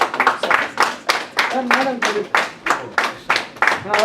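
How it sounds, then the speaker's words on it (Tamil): A handful of audience members clap at a book presentation event, scattered rhythmic claps in distinct bursts with a voice speaking faintly underneath. "கைத்தட்டிய 4 பேருக்கு நன்றி."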